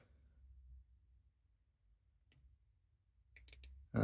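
Tactile switch on a Zorkryth Champ flashlight clicked in a quick cluster of sharp, close clicks near the end after a long quiet stretch, followed by a louder knock or handling thump.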